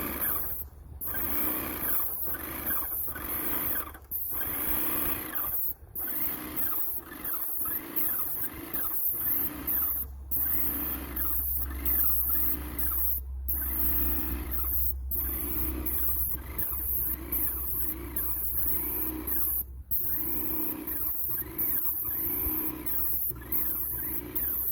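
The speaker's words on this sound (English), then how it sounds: "we're going to put on, with the airless, a coat of spar varnish and a satin finish" An airless sprayer applies spar varnish with a satin finish over charred wood, giving a steady mechanical hiss and motor drone with rhythmic pulses and short pauses as the trigger is released.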